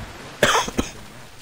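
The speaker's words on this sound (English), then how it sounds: "I've got a tiny bit of a cough." A short double cough from a man with a slight cough, two quick bursts close to the mic, followed by quiet.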